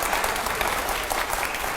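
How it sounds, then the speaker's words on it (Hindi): Dense, steady audience applause at a televised question session, many hands clapping loudly and continuously with no voices over it. "जोरदार तालियां हो जाए जरा"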